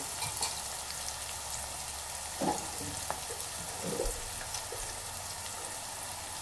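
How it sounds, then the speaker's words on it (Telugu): Onions and green chillies fry in a pan, giving a steady, moderately loud sizzle throughout with a few brief clinks and stirring scrapes over it; no one speaks. "మనకైతే ఇంకా ఆనియన్స్, పచ్చిమిర్చి అయితే ఇంకా వేగిపోతున్నాయి."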